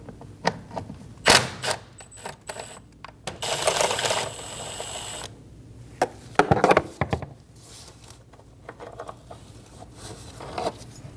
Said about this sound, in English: Using a 13mm socket, remove the bolt for the battery hold down.